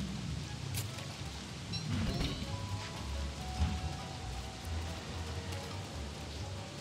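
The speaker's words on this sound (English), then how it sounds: "Frog rain!" Frog rain pours down during an event in the video game Don't Starve Together, a steady, quiet hiss of falling rain with soft patter throughout.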